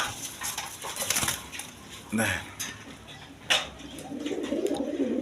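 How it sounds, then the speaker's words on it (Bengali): A pair of fieldback pigeons, a female and a male, on a pigeon farm give soft, low coos at close range amid light clinks and scattered background noise. "এখানে এক পেয়ার ফিল্ডব্যাক কবুতর আছে"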